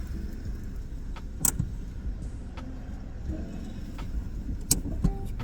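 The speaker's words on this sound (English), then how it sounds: "We'll do a quick little handbrake test for y'all." A car's handbrake being pulled and tested after rear brake work, heard as a steady low road and engine rumble with a couple of sharp mechanical clicks and clunks standing out.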